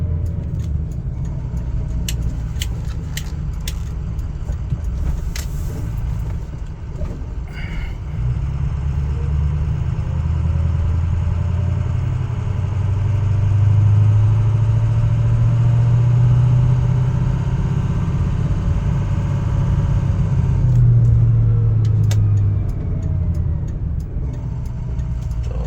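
A pickup truck fitted with a BD Diesel 5R110 transmission coasts while slowing, its engine giving a steady low rumble that swells briefly twice, with no talking.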